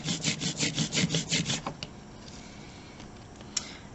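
Ink rolled out with a brayer over a styrofoam relief printing plate, a sticky, tacky rolling sound in quick regular strokes, close and fairly loud, then stopping, leaving faint handling noises.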